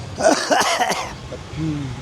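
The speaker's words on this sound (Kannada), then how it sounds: "ಹಾಂ ನಿಮಗೆ ಕೆಮ್ಮು ಬರುತ್ತೆ ಗೊತ್ತಾ?" A person coughs several times in a quick, harsh burst, then clears their throat, close and fairly loud.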